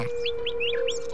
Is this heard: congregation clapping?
no